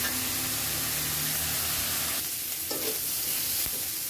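Chopped onion and green chilies frying on high heat for chicken chow mein, giving a dense, steady hiss of sizzling oil that eases slightly near the end, close and fairly loud.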